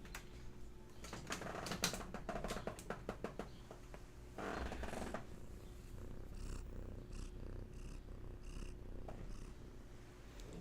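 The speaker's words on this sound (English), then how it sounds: "Lovely purrs for all of you." A house cat purrs softly and close by, a low rhythmic rumble running under scattered tapping and clicking sounds, with no voices.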